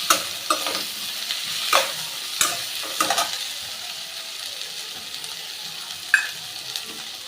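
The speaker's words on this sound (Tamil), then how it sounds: "நம்ம கட் பண்ண நார்த்தங்காயை அதில் ஆட் பண்ணிக்கலாம் இதையும் கொஞ்சமாக வதக்கிக்கலாம்" Chopped citron (narthangai) sautéed in a pan, with a steady sizzle broken by a series of sharp spatula scrapes and clicks against the pan, close and with no talking.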